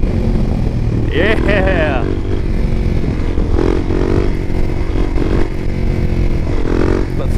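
A supermoto motorcycle engine roars loudly and steadily throughout while riding, its revs rising and falling, with wind noise and a brief spoken word over it.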